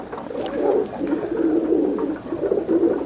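A kept pigeon coos repeatedly in low, rolling phrases, close by and moderately quiet, continuing steadily with no speech.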